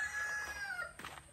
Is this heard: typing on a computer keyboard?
no